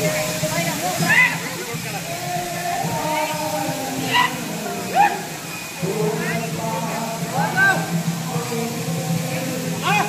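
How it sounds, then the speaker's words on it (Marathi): A waterfall beside a roadside stop near Tuljapur gives a steady broad rushing wash throughout, while people talk over it nearby. "तर गाईज इकडे आहे ना वॉटरफॉल पण आहे."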